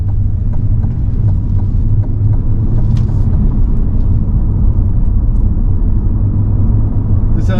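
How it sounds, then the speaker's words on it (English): Steady low road rumble and tire noise inside a 2021 Chevrolet Corvette 3LT Stingray convertible with Z51 summer tires, cruising around town at 37 mph; a loud, constant drone with no voices. "Road noise isn't too bad. Just putting around town at 37 miles an hour."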